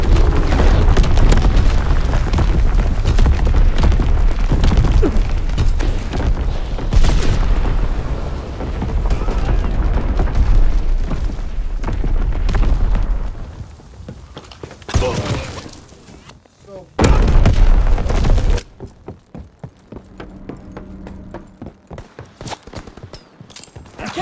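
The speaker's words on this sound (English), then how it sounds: "incoming enemy artillery" Heavy enemy artillery explosions boom one after another in Call of Duty WW2 multiplayer, loud and close amid gunfire and battlefield chaos, with voices calling out over the din.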